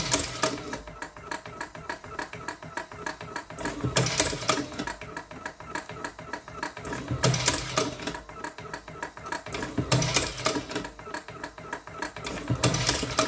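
An electric cigarette rolling machine automatically filling cigarettes whirs and clatters in a fast steady rhythm, with a louder mechanical push every few seconds, indoors and close.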